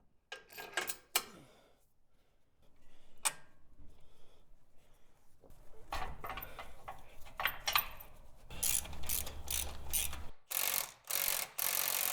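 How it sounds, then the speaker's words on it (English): A ratchet wrench backs out a bolt on a Jeep LJ Rubicon, sounding as close, quick bursts of metallic clicking. The clicking grows denser and louder toward the end, with short pauses between strokes. "then you can ratchet that off"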